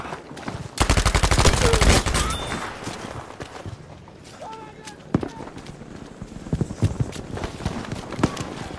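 Rapid bursts of shotgun fire in Battlefield V during a bridge fight, a dense volley of loud close blasts followed by scattered single shots and distant battle noise, with a player talking over it.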